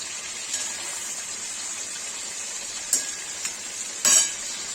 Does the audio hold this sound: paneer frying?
yes